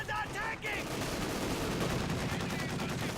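Dense, continuous machine gun fire from a bunker in Company of Heroes 2 rattles without a break, loud and close, with battle noise layered underneath and no clear speech.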